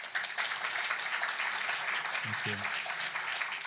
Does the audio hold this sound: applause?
yes